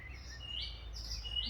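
Small birds chirp faintly in short, high tweets at a backyard bird house with a water feeder in the Netherlands, a few calls scattered over low background rumble.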